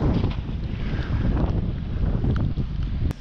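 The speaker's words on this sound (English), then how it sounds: "Wind's blowing right at my face, 20 miles plus an hour" Strong wind roars across a boat while fishing for striped bass off Long Island in fall, a steady buffeting rush with low rumble and gusty microphone noise throughout, no voices.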